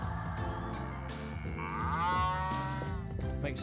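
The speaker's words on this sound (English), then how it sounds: "Makes a moo sound." A cow moos in a long, steady low call with a rising tone near the middle, heard alone and fairly faint, with no talking.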